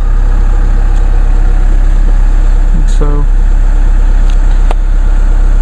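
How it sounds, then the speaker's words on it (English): A 2014 Chevrolet Cruze turbo diesel engine idles with a steady low hum throughout, a brief voice breaking in once over the running engine. "Now we'll get a little view of the engine running here"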